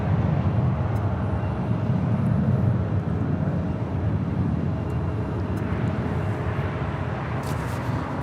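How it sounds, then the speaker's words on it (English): A Delta Airlines Airbus A320 arriving at LAX gives a broad, steady jet roar, loud and continuous with a low rumble, fading slightly toward the end. "Delta Airlines Flight 306 on this A320, originally with Northwest Airlines, delivered to them in October of 2001"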